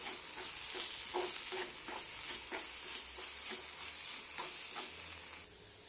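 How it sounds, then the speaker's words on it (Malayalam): Chili powder masala fries in a pan while being stirred, a steady bright sizzle broken by repeated scraping strokes of the spoon at an even rhythm, close and fairly loud, with no talking. "നന്നായിട്ടൊന്ന് മിക്സ് ചെയ്യാം."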